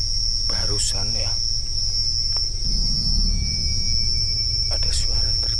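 Crickets chirp at night on a dark roadside with a steady, loud, high-pitched drone throughout, joined by brief scattered rustles and faint voices in the background.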